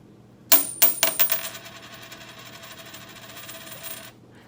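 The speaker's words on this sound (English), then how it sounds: "Yeah, it's a coin." A coin is dropped and bounces on a hard surface, giving a sharp clink and several quick bouncing rattles, then a long spinning, wobbling ring that fades out after a few seconds. No one speaks.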